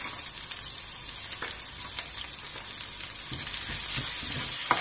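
Garlic and cumin seeds sizzling in smoking-hot oil for aloo palak, a continuous bright crackle with scattered sharp pops and occasional stirring scrapes, close and steady throughout.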